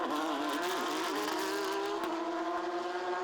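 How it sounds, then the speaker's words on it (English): Porsche race cars battling on track in a Belcar Series round, a loud continuous engine roar with high revs rising and shifting throughout. "It's a good fight here between two Q1 track racing Porsches."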